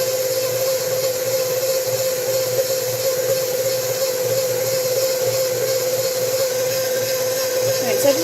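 A stand mixer kneading sandwich bread dough with added flour, a steady loud motor whine and hum running unbroken throughout, close by.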